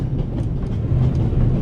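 A moving train rumbles steadily in the video game The Raven Remastered, a loud, continuous low carriage drone with faint rhythmic clatter and no talk.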